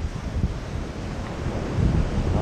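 Steady sea wind buffets the microphone on a Nha Trang beach, with surf rumbling low underneath, a continuous broadband roar that swells slightly toward the end.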